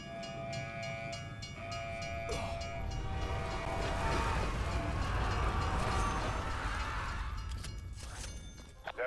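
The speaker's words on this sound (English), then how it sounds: "There are several trains trapped in a loop through this station." Trains run in a loop through a station in a video game, a continuous loud rumble of rail cars with a sustained horn-like tone running under it, fading near the end.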